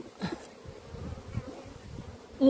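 A calm honeybee colony in an open hive during an early-spring inspection gives off a steady, soft, close buzzing hum throughout, with no talking.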